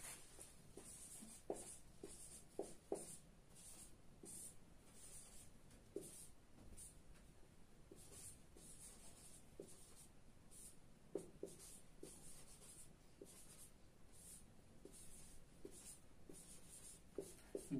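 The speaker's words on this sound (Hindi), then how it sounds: "लिखते हैं, आप लोग नोट कीजिएगा।" A pen writing on paper, faint and close, with soft continuous scratching and short strokes in an irregular rhythm over a quiet room.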